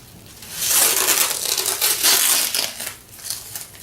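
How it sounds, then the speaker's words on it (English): Tape pulled and pressed down over a castor oil pack, heard as a close burst of crinkly rustling and tearing that swells and fades for a few seconds, with no talking. "I'm going to tape this better."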